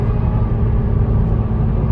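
A Ford Mustang engine rumbles close by at night with a deep, steady, throbbing low growl.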